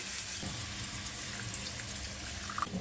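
Water pours into a yogurt masala in a pan over a low flame, a steady close rushing splash lasting a few seconds with no talk.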